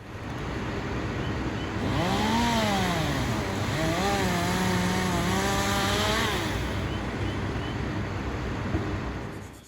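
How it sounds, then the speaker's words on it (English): A loud, droning engine whines steadily, its pitch rising and falling as it revs, with a constant outdoor rumble beneath, from work taking down very large trees. "they were taking down some very large trees"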